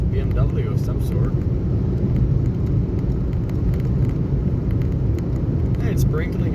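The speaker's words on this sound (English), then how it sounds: "It's a BMW of some sort." A BMW passing on a road during a rainy Southern California thunderstorm, heard as a steady low rumble of engine and tyres that sits close and loud throughout, with no clear rise or fade.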